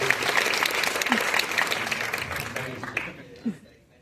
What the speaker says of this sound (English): We'll give her a applause for that